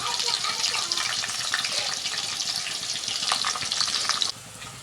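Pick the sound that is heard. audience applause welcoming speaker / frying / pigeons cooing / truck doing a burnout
frying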